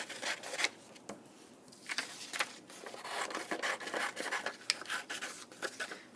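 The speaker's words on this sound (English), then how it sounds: "So I'm just going to trace a cut right on my line." Cutting along a traced line, heard close up as an irregular series of short rasping, scraping strokes with brief pauses between them.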